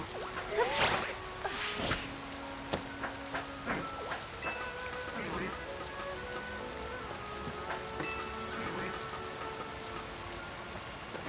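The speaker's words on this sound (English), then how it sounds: "Nope, nope, there's the rain." Rain falls in the Pokemon Legends ZA video game with occasional game tones and chimes over it, a steady wet patter under a few brighter blips, with no one talking.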